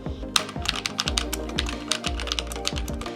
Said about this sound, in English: I'm just going to tap away at the keyboard now so you can listen to how it sounds.